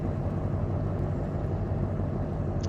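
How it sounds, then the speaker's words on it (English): A truck engine in the Farming Simulator 17 video game, a loud, steady low rumble that stays constant from start to finish with no talk over it. "This has just got a really loud truck sound on it"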